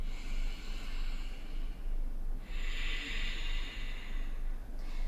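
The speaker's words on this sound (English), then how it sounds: "Deep breath in." Slow, deep breathing in a yoga class comes as a long airy inhale swelling after a quiet stretch, close and soft, with faint room hiss and no talking.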